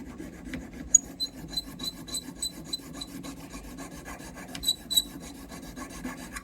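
Steady rasping strokes of an auger bit file working at a Yamaha FG9 acoustic guitar during a neck reset and setup, close and fairly quiet, with a few brighter scraping accents and no talking.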